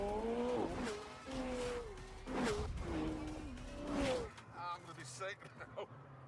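A black and red supercar's engine revs loudly in several rising and falling bursts with tire-like squeals, near and prominent, under a voice as he talks.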